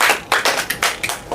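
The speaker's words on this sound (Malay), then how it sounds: "Berikan tepukan kepada Anis" A short burst of classroom applause for a student, several separate bursts of hand claps close together and fairly loud, with no talking over it.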